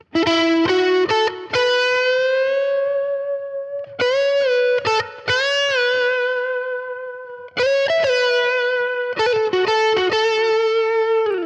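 Overdriven electric guitar through a Fractal amp modeler preset plays phrased licks and sustained notes with a gritty, amp-like tone, alone and loud, with short pauses between phrases.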